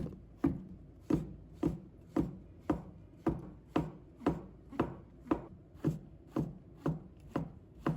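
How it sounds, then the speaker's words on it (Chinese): A knife chops king oyster mushroom into diamond-shaped slices on a board, about fourteen crisp, even strokes in a steady unhurried rhythm, close and clear with nothing else around. "再切成菱形片。"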